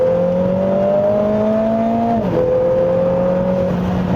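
A Lotus Emira 2.0 pulls hard in third gear under manual mode, its engine note climbing steadily before a quick shift drops the pitch, then rising again, loud and close with no talking.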